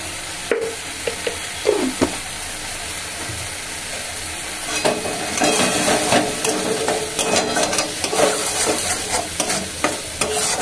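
Leafy greens curry with spices and a little sugar being stir-fried in a pan, a steady sizzle with scraping and clinking stirring strokes that grow busier and louder partway through, close up and without talk.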